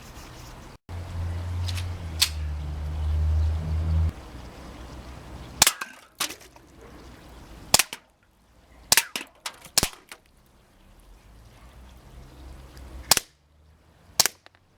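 A Cybergun Sig Sauer X-five airsoft pistol fired at cans, about ten sharp snapping shots spaced irregularly, close and loud, with faint clinks of hit cans after a low motor hum fades early on.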